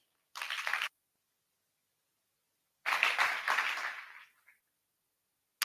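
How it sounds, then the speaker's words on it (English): An audience at a keynote address for the Enlit Africa energy event applauds in two separate bursts, a short one and then a longer one that trails off, with a quiet gap between them. "Let's welcome him with a round of applause"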